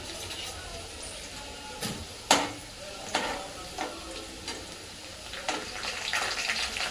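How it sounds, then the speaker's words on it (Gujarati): Steady hiss of garlic frying in a pan, with a few sharp scraping clicks of a spoon against metal scattered throughout. "થોડું અચ્છું ગુલાબી થાય ને એવું સરસ તળી દેવાનું લસણનો"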